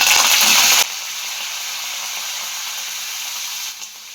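Mustard seeds, cumin, red chillies and curry leaves hit hot oil with a loud, bright sizzle and spatter for under a second, then settle into a quieter steady hiss.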